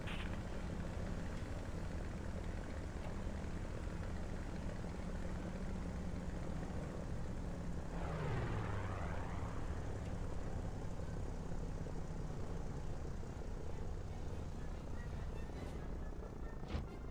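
An aircraft engine on a landing approach in a flight video game drones steadily and loudly throughout, with a brief pitch sweep passing midway through the clip.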